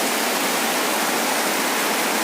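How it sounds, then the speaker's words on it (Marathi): Heavy cloudburst-like rain pours down steadily over farmland in Nanded district, a dense, loud, unbroken hiss filling the whole clip with no voices. "आणि आता बघितलं तर एवढा पाऊस आहे की नाही."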